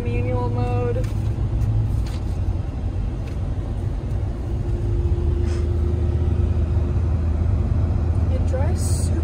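A 2018 Mercedes-AMG E63 S station wagon cruising in sport mode, with a steady low cabin rumble of engine and road noise throughout and people talking over it.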